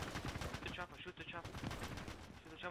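Battlefield 2 Arctic Warfare mod gunfire rattles in quick bursts, with machine-gun fire and single shots crackling close and loud as a player's voice speaks over the shooting.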